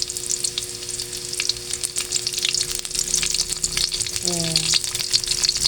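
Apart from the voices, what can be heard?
onions frying with pork in a pan for pinakbet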